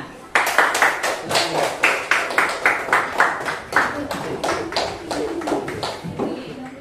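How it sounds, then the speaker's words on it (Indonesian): Students in a classroom clap together in a rhythmic unison beat, about two claps per second, each sharp and distinct, slowing and loosening toward the end. "Oke, tepuk tangan"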